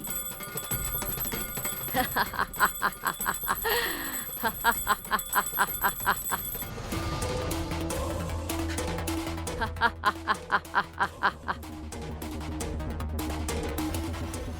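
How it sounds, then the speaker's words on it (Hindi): A bell rings in rapid, repeated metallic strikes, in two long bursts separated by a pause, loud and bright against dramatic background music, with voices speaking briefly. "घंटी की आवाज तुम्हारे पुनर्जन्म को सुनाई दे रही होगी।"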